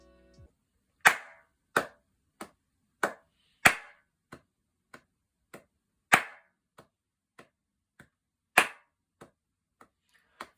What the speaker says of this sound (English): you're doing 3 quiet claps plus 1 loud, which is 4